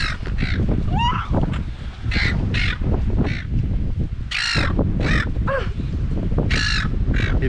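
Seagulls squawking harshly and repeatedly at close range while swooping in to attack, loud overlapping calls over heavy wind and handling rumble outdoors.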